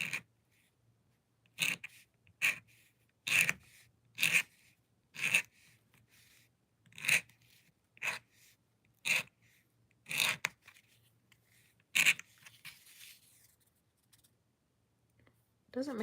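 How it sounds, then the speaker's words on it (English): A hand tool scrapes across a large wooden frame in a garden, making a series of short, sharp rasping strokes at irregular intervals, close and distinct against quiet gaps. "so we're just going to scrape it."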